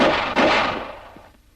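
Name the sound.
gunfire from pistol shooting practice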